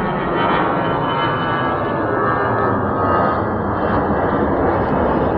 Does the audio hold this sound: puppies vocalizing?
no